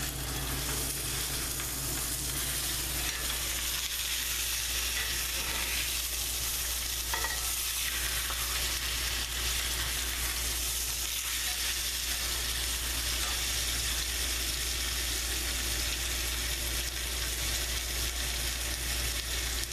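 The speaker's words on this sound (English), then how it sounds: "you want to leave this on one side just enough to sear the outside for about 1 minute" A New York strip steak sears in a cast iron skillet, giving a steady, loud, continuous sizzle and hiss that lasts throughout with no pauses.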